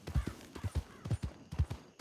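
Horse hooves clip-clop in Red Dead Redemption, a steady rhythmic series of paired thuds at walking pace, close and fairly soft, with no talk over them.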